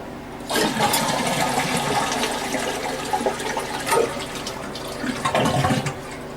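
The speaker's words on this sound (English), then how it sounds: "we're going to flush it and drain the water out of the tank" A toilet is flushed with the water supply to the tank shut off, draining the tank; close, loud rushing water with gurgling surges that swell again near the end as the tank empties.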